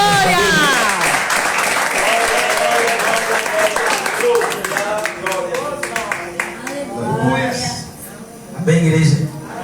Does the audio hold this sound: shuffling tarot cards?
no